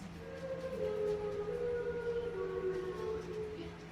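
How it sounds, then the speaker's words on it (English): A long, steady warning siren wails at a distance, its sustained tones drifting slightly in pitch over a low background hum. "A warning siren rips through the small town."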